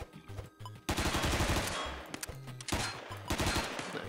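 Gunfire in a video game: dense bursts of rapid shots and heavy low thumps, loud and nearly continuous across the whole stretch with brief gaps between volleys.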